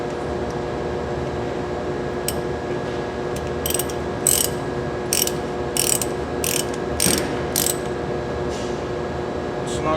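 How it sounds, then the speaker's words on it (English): A ratchet clicks in short bursts as it tightens the drain plug back into a brake unit, about eight quick ratcheting runs spaced over several seconds against a steady mechanical background hum. "we're going to put our drain plug back in now that the brake's completely drained"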